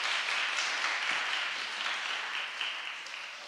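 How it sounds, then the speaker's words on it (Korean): A church congregation at a revival meeting applauds as a guest leaves, a sustained wash of many hands clapping that sounds somewhat distant and fades slightly toward the end. "우리 가시는데 박수 한번 쳐드리십시다."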